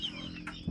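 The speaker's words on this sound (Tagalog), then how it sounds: "Ito naman yung mga native natin na mga manok" Native chickens cluck briefly nearby, a short burst of fowl calls.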